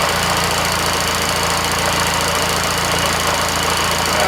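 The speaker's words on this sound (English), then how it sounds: "One of the reasons it's so noisy, there's quite a bunch of gears in there." A vintage Austin Seven car engine running steadily up close, a loud, busy mechanical clatter with gear whine and a constant rhythmic knock, no voices over it.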